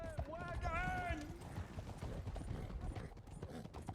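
Hooves of a horse-drawn wagon clip-clopping in a western video game, a steady rhythmic trot heard under constant talking, with a brief whinny-like tone near the start.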